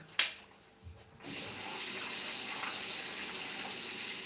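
Tap water gushes steadily into a kitchen sink during home cooking, following a faint clink at the start, then running continuously and fairly close.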